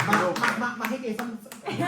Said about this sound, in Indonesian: Harus tepuk tangan, tepuk tangan.